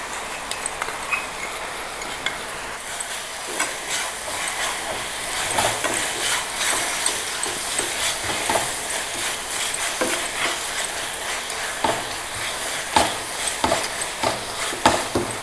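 Rock sugar melting into a thick syrup in a pan for gulkand is stirred steadily, a continuous soft bubbling sizzle with scraping strokes of a spoon, moderately close and without voices.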